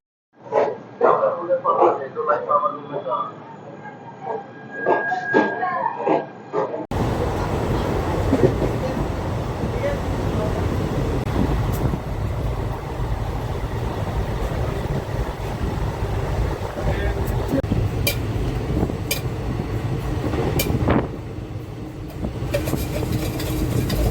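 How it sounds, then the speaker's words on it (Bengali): Kanchanjangha Express pulling out of Bolpur station: a voice talks over quiet background for the first few seconds, then a loud, steady rolling rumble and clatter of the moving train fills the rest, with occasional sharper knocks. "আমাদের ট্রেন এখন এই বোলপুর থেকে ছেড়ে বেরোচ্ছে"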